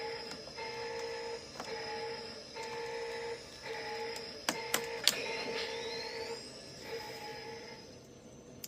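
A 1984 Ghostbusters proton pack left unplugged gives off a steady, faint electronic warble that pulses rhythmically, with a few sharp clicks and a rising whine partway through.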